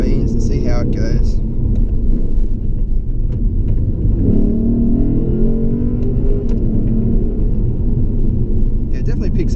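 The V8 of a 2016 Lexus GS F accelerates hard with a loud, continuous rumbling roar heard from inside the cabin, and a voice is briefly audible at the start and end.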